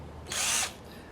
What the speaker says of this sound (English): The drill said, nope